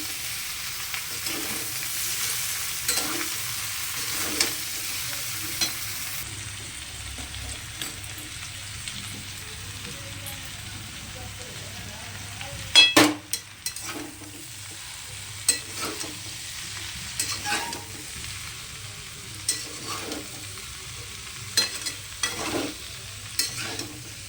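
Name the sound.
cauliflower frying and being stirred in pan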